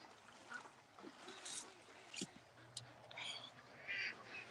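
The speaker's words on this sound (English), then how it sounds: "The ducks get excited, and he thinks it's chase time." Ducks quack excitedly in short scattered bursts around a dog, fairly faint and mixed with outdoor background noise.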